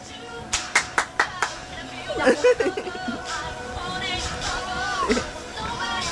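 A few sharp hand claps ring out in quick succession, then voices and chatter take over in a casual home setting with children.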